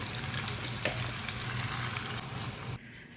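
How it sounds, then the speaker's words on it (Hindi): Thinly sliced rounds of onion and capsicum sizzle in hot oil, a steady close crackling frying hiss with a faint stir click, then dropping off sharply near the end. "मैंने ऐड कर दिया है गोल सा पतला सा कटा हुआ प्याज और शिमला मिर्च। इसको हल्का सा करेंगे फ्राई।"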